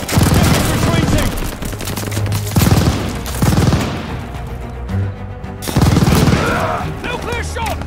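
Rapid gunfire bursts and heavy shots in the World War II shooter Call of Duty Vanguard on PC, loud and repeated in clusters with brief lulls, with shouted voices mixed in among the battle noise.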